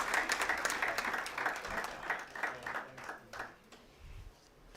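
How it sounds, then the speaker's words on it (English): Applause from an audience at a college science event inauguration, a rather faint, uneven patter of clapping hands that thins out and fades toward the end. "Keep the applause coming."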